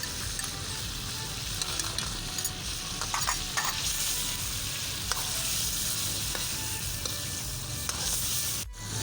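Coarsely crushed ginger garlic paste sizzles and fries loudly in a chicken koyla karahi, a continuous crackling hiss with occasional stirring clicks, close up and without talk.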